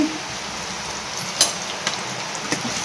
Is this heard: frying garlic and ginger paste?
yes